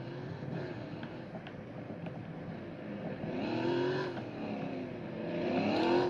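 A Porsche engine in the game Fix It Up hums at a fairly quiet level, then revs in smooth rising and falling sweeps that grow a little louder toward the end, with no one talking.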